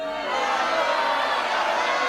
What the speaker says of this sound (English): the crowd's getting excited